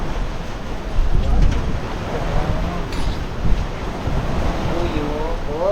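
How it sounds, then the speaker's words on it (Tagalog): Strong wind roars steadily into the microphone over rumbling surf, with faint voices underneath. "Lakas ng hangin ah."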